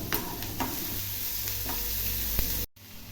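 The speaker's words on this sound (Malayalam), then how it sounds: "ചട്ടി ചൂടാക്കി എണ്ണ ഒഴിച്ച് സവോള എരിഞ്ഞതും ഇഞ്ചി വെളുത്തുള്ളി ചതച്ചതും മറ്റു മസാലപ്പൊടികളെല്ലാം കൂടെ നമുക്കൊന്ന് വഴറ്റിയെടുക്കാം" Onion, crushed ginger and garlic, and masala powders sauté in hot oil in a pan while prawns are prepared for frying. A steady close sizzle runs throughout, broken by several stirring scrapes, and cuts off abruptly near the end.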